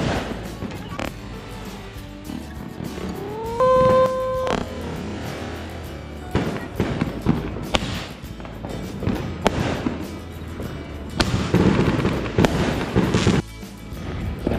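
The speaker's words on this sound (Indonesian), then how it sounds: "tinggal si petasan ini nih yang paling gede terakhir" New Year firecrackers pop and crack in irregular bursts against a noisy outdoor background in Batu, Malang, in heavy rain, with a brief whistling tone partway through and scattered sharp bangs near the end.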